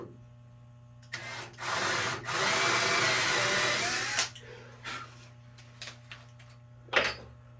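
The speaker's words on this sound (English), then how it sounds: "so I'm just going to drill this in the center." A power drill whirs into wood for about three seconds, then stops; a few short scraping and knocking sounds follow.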